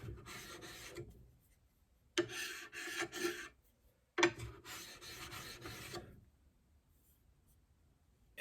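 A steel chisel is rubbed over a whetstone in three bursts of rhythmic scraping strokes separated by short pauses, fairly quiet and close.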